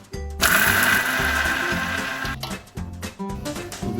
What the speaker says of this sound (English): And we will just grind this.